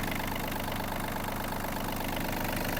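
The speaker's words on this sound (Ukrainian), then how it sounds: "двигун в дуже гарному стані. Працює рівно, чітко." A Yanmar RS-27 Japanese mini tractor engine idles steadily and evenly, a continuous close rumble with no voices.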